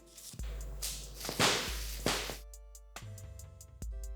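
Electric arc between positive and negative conductors in a solar power system: loud, crackling, sizzling bursts with a steady hum beneath, sharp snaps and whooshing flares repeating over about four seconds.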